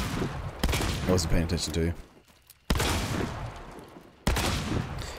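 Shotgun blasts in Hunt: Showdown, three sharp, loud shots spaced a second or two apart, each followed by a decaying rumble, with someone talking over the first part.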